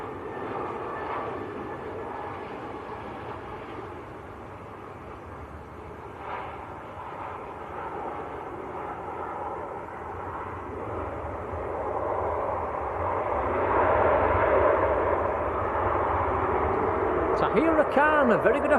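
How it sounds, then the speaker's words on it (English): An Aer Lingus Airbus A320 on final approach into Manchester Airport, inbound from Dublin, its engine drone building gradually louder toward the end while people chat over it. "Aer Lingus A320 on finals in from Dublin"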